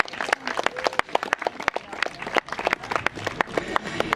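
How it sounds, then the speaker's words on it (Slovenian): An outdoor crowd at a bee festival and honey-tree planting in Ljutomer claps for visiting friends from Austria and Croatia, sparse uneven handclaps with distinct individual slaps rather than a dense roar, fairly close. "En velik aplavz za naše prijatelje"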